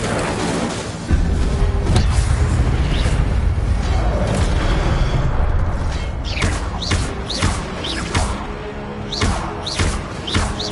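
Spell-casting in a wizard video game, including an Incendio fire spell: heavy booms, thuds and whooshing bursts, loud and close, repeating through the scene with brief gaps.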